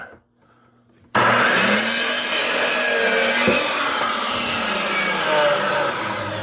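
Sanding a hardwood countertop. After about a second of near silence, a loud, steady abrasive rasp starts abruptly and continues unbroken to the end, close to the listener.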